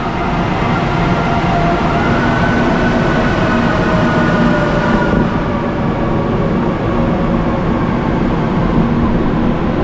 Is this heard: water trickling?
no